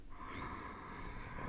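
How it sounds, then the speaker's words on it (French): Ujjayi breathing during a vinyasa yoga session for hips and back, one slow audible breath with a soft, throaty, ocean-like rush, close and quiet, no talking. "Venez trouver la respiration Ujjayi, respiration sonore."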